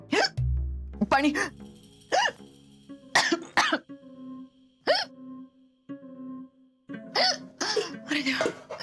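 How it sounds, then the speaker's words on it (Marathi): A man hiccups several times in a Marathi TV drama scene, with short sharp bursts between stretches of conversation. "गेली उचकी."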